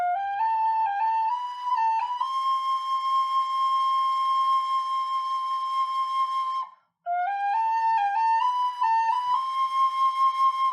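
Tin whistle playing a video game theme, a clear, bright solo melody climbing step by step to a long held note, with one brief breath pause before the tune resumes.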